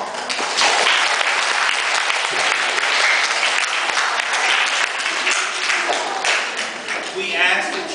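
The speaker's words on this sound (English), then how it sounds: "let's give all of you a round of applause" Round of applause at a school award ceremony, a full crowd of parents and students clapping steadily and continuously, with a few brief voices mixed in.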